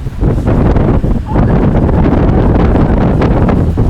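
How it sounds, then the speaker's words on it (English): Strong wind buffets the microphone over a women's rowing race course, a loud, continuous roar with gusty surges and rumbling low-end buffeting that hardly lets up. "The wind is beginning to swirl every which way."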